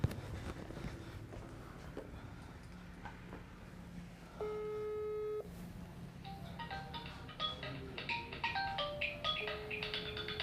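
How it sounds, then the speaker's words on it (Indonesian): A mobile phone rings somewhere inside a house, heard from the front porch outside: a steady electronic tone around four to five seconds in, then a busier melodic ringtone pattern over faint background noise. "Di dalam ada suara HP berdering Pak."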